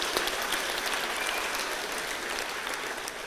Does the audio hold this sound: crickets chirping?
no